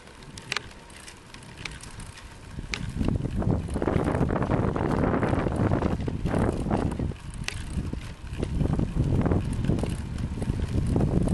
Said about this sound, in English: Be heading back into the wind again.